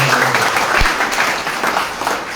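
A church congregation claps for God in a loud, close burst of applause, a dense steady patter filling the whole short stretch with no speech over it.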